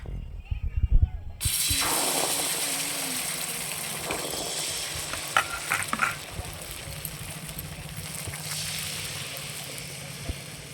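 Batter poured into a wok with a little hot oil, a sudden burst into a steady close sizzle that holds on with a few faint crackles, after brief handling noises.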